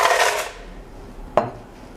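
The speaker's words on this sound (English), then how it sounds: "we are going to fill the blender with 1 cup of ice" Ice tumbles into a blender jar with a loud clattering rattle that fades out, followed by one sharp, clinking knock.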